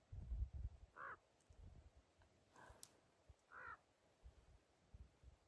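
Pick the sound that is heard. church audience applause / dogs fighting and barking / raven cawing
raven cawing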